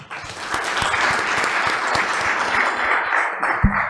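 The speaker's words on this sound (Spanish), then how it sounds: "Vamos a darle un aplauso" Steady audience applause for a speaker at a legal seminar, a dense, even wash of many hands clapping that holds throughout at moderate volume, with a faint voice near the end.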